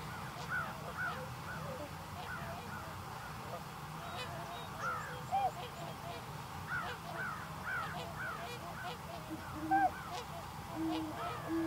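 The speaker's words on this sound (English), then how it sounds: "Under the watchful eye of an immature bald eagle, the trumpeters and tundras can be heard talking." Trumpeter and tundra swans call in Wisconsin, a flock giving repeated honking, bugling notes at a moderate distance over a steady low background murmur, with a few louder calls standing out.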